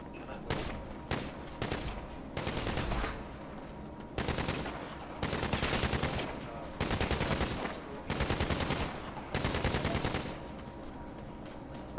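Automatic gunfire bursts in a GTA roleplay game, about eight rapid rattling volleys spread across the stretch with short gaps between them, loud and close over a steady background.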